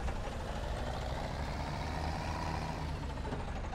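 Tractor engine from Farming Simulator 17 labouring up a steep road: a steady, even drone that stays constant throughout, with no voices.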